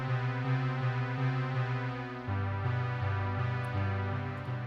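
Sustained synth pad playing a low part in the style of a song's chorus, warm droning chords that shift pitch midway and pulse gently, soft and steady with no talking.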